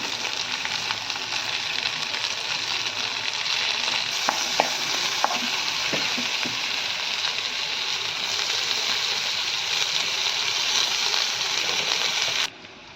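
Potatoes frying in a pan full of oil for aloo paratha, a loud steady sizzle with a few clinks and scrapes from stirring before it cuts off abruptly at the end.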